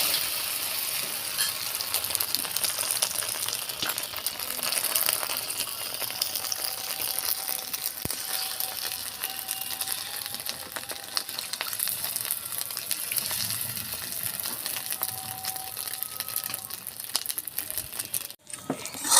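Beaten egg frying in a pan, a steady crackling sizzle that runs throughout at moderate level, with occasional faint clinks and scrapes and no voices.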